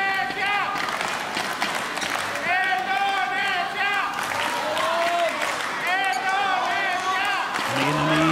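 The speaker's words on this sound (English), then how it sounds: "Indonesian fans shouting, and the Dutch responding." Indonesian and Dutch fans shouting in a packed hall during the third game of a 2014 mixed doubles badminton final in the Netherlands: dense crowd noise with rising chants and shouted calls swelling and fading, loud and continuous.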